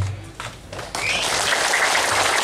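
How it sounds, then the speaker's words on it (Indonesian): An audience at a governor's working visit in a village in Malaka, East Nusa Tenggara, breaks into dense, loud applause that swells after a few scattered claps and holds steady. "Kita berikan aplaus yang meriah kepada Bapak Gubernur Nusa Tenggara Timur."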